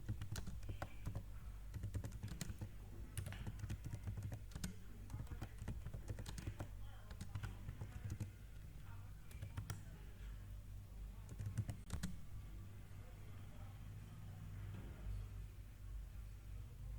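Steady typing on a computer keyboard while entering a document, rapid close key taps in uneven bursts over a low hum, pausing briefly before resuming.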